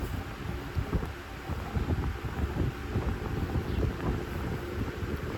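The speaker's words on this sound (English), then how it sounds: "It's windy." Continuous rough wind buffeting against the microphone, a loud low rumble with gusty fluctuations and no voices.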